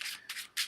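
Three quick riffles of a stack of Hogwarts Battle game cards being shuffled, each a short papery swish, close and fairly quiet with brief gaps between them.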